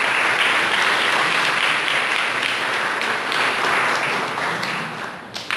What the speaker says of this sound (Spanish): le vamos a recibir por un fuerte aplauso